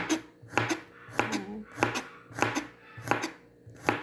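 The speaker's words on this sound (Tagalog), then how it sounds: "Tuloy ko muna itong aking pag-i-slice" A knife slices garlic cloves on a cutting board for fried garlic, producing a steady rhythm of about eight crisp, close, moderately quiet chops spaced roughly half a second apart.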